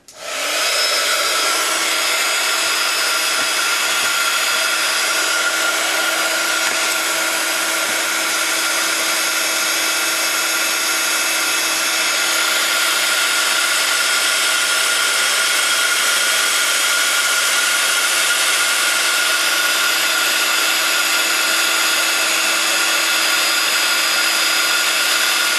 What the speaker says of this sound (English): I'm going to heat set that clear embossing powder.